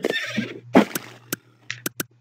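A horse in the video game Animal Jam gives a short synthetic whinny, then a few sharp game clicks and pops sound in quick, uneven succession.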